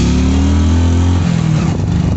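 A Hero Splendor 100cc motorcycle, carrying two riders on a harsh winter mountain pass, revs loudly up close, its engine note climbing and then dropping and breaking up near the end.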